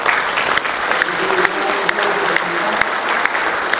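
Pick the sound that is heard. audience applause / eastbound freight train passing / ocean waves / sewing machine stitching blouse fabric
audience applause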